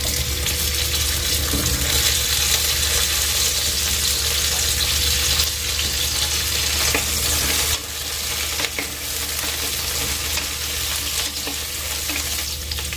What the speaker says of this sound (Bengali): এবার ছোট করে পিস করে রাখা পটলটা ভাজার জন্য দিয়ে দিচ্ছি।